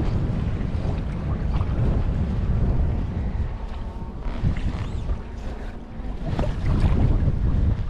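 Strong wind buffets the microphone nonstop while fly fishing with a rod for brown trout, a dense low roar that swells and eases in gusts, with water noise underneath and no talking.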